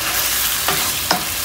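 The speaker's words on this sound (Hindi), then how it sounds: "पोटैटोस को मसाले के अंदर अच्छी तरह भूनना है।" Potatoes fry loudly and continuously in masala, with two spoon strokes stirring through the steady sizzle.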